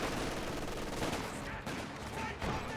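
Gunfire from a Company of Heroes 2 battle as a unit fires rounds into a Kubelwagen: steady bursts of small-arms and machine-gun shots with battlefield rumble, fairly quiet and continuous with no voice over it.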